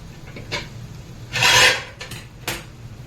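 A lid comes off a pan of vetki fish frying with potatoes. Three short metallic scrapes ring out close by, the middle one longest and loudest, over a quiet background with no voices.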